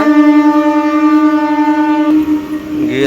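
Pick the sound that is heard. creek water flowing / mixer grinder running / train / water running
train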